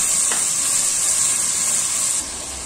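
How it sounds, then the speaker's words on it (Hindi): Masala of tomato and garlic-ginger paste fries in a pan for a karahi, giving an even, bright sizzle that stays loud and close and then eases a little near the end. "मसाला तकरीबन रेडी है, थोड़ा सा और भून लूंगी"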